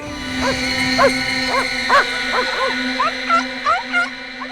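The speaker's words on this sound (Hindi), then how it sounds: "यहाँ तो पमेरियंस, डेल्मेशियंस और लेब्राडोर जैसे प्यारे प्यारे कुत्ते ही हैं सर" Dogs at a dog training center and kennel, where Pomeranians, Dalmatians and Labradors are kept, let out repeated close yelping barks and whimpers in an irregular rhythm over a steady background hum.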